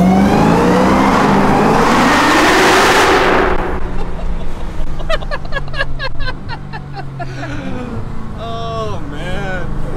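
A loud Dodge Demon engine roars and revs hard, rising in pitch as it accelerates, followed by sharp pops and excited voices over the rumble.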